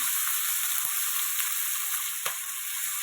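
Tomato and onion sizzle in hot oil for a butter chicken base, a close, steady frying hiss with a few soft stirring knocks beneath it.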